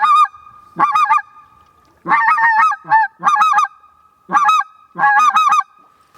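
A reed goose call blown by a person imitates the white-fronted goose, giving loud, close, repeated three-note yelping honks in short bursts separated by brief pauses.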